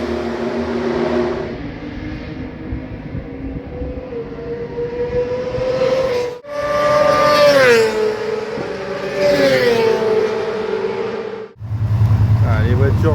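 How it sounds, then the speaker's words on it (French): Car engines warming up at the Algarve race circuit on a wet track, a sustained mechanical drone with rising and falling revs and pitch sweeps, loud and close, punctuated by brief drops, with talk mixed in. "Les voitures sont en train de chauffer, tout le monde attend son tour, les premiers y vont."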